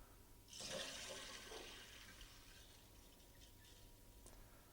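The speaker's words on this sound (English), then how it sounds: "We're now ready to test and switch on the water." A toilet cistern fitted with a Cistermiser Standard Valve fills once the water supply is switched on. A sudden rushing gush of water settles into a steady, softer trickle, alone and fairly close.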